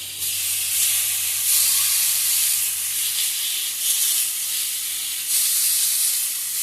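Pork steaks sizzle on an Ozark Trail griddle with a steady, loud frying hiss that carries through the whole stretch, swelling slightly in places, with no talking.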